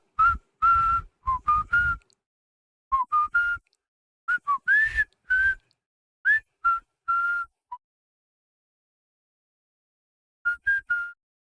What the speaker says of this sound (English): Whistling is back on the menu